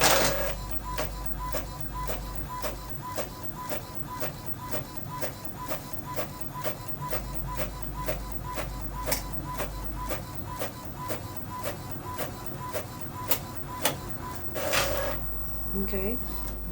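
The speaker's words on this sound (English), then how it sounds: "And it should print pretty fast." A printer runs through a sticker sheet, its print head clicking in a steady, regular rhythm over a continuous mechanical whir, close and moderately loud, with a brief louder feed noise near the end.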